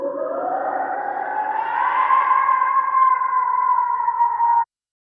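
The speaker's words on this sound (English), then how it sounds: "the eerie sound of wailing banshees" Eerie wailing banshee effect, a processed, ghostly rising and sliding howl with echo and chorus-like shimmer, swelling over a few seconds before cutting off abruptly, loud and alone.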